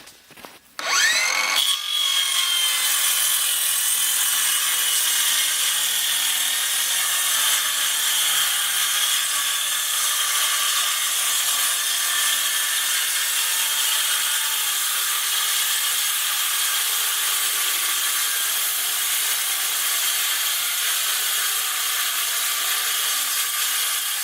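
Power saw cutting wood for a quail cage lid, a loud continuous whine running steadily from start to finish after a brief clatter at the outset, close and harsh with no talk.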